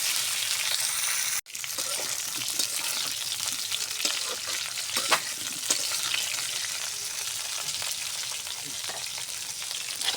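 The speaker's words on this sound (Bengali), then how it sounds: "এখন আমি ফুলকপিগুলো সুন্দর করে হালকা হালকা করে ভাজিয়ে নিব।" Cauliflower florets frying lightly in a pan give a steady, dense sizzle that runs throughout, broken by a brief dropout near the start, with occasional louder crackles and faint stirring scrapes.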